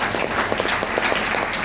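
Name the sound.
audience applause for the achievers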